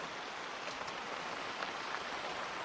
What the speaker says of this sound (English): And then it started raining.